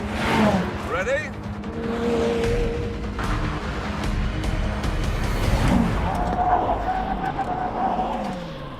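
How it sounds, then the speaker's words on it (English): McLaren Senna and Jaguar F-Type braking hard from 100 mph, engines roaring and tires scrubbing as the cars slow sharply, loud and close, with someone talking over the noise. "when we get to that cone down there, we're both going to brake."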